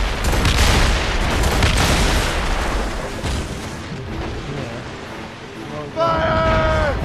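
Ship cannons boom in a naval battle in Assassin's Creed Rogue, heavy blasts and rumbling fire filling the scene loudly and continuously, with a rising tonal game cue near the end.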